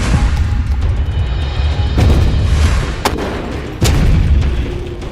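Gunfire in combat footage from fighting in Rafah, sharp cracks and booming reports, a few distinct shots over a rumbling, noisy background, no talk.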